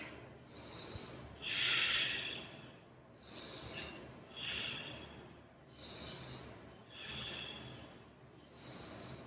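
Deep rhythmic breathing during a yoga flow, about seven slow, airy inhales and exhales in an even cycle, close and fairly soft, with no talking.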